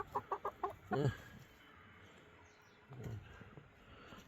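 Backyard hens in a small coop, a few close rhythmic clucks followed by a squawk, then quieter low clucking later.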